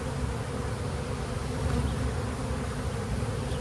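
A honey bee colony in a package-and-nuc hive buzzes as a dense, steady drone, close and loud without pause and with no voices over it.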